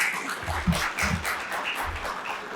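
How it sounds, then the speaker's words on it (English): An audience claps at an indoor design debate event in Ahmedabad, a short patter of applause that stays moderate in level throughout, with no one speaking. "Let us have a huge round of applause for him"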